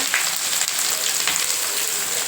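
Finely chopped onions sizzle steadily in hot oil, a dense, even hiss with no voices.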